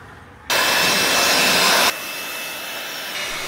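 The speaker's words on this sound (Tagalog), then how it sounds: "Sinusundan pa natin ito ng air blower para sigurado tayong walang matitirang tubig sa ating sasakyan." An air blower dries a freshly washed Mini Countryman, starting with a loud, steady rushing blast that drops after about a second and a half to a lower continuous hiss. No one speaks.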